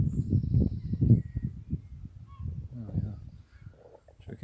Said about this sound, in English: can everybody hear the gulls coming in from Strangford Loch?